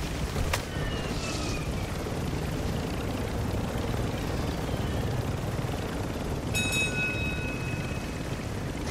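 Helicopter in a video game, a steady rotor and engine drone holding for nearly nine seconds with brief whistling tones and a sharp click layered over it.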